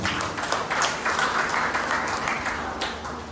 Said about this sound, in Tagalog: Palakpak natin ang ating mga.